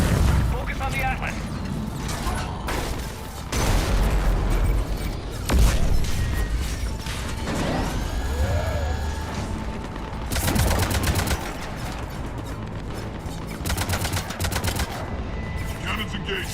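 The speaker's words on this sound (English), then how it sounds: "Cannons engaged." Heavy cannons fire in the Mass Effect 3 battle against an Atlas, with dense bursts of rapid gunfire, booms and mechanical clatter, loud and continuous, while voices speak over the combat.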